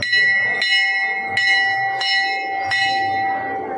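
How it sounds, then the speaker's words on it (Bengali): A temple bell rung by hand at a crowded Sitala Ma temple during Buddha Purnima, struck four times at uneven intervals with bright ringing tones that sustain and overlap, loud and close over a murmur of the crowd. "ঘন্টাটা বাজিয়ে দিই।"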